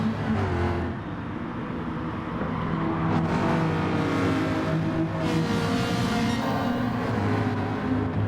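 A pack of GT4 race cars at Spa in a racing video game, engines roaring steadily and loudly throughout, with overlapping revs and a couple of passing swells.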